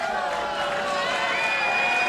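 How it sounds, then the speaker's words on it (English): A boxing crowd keeps up a continuous loud roar of cheering and shouting throughout the fight, with a commentator's voice blended into the noise. "the crowd's appreciative of it"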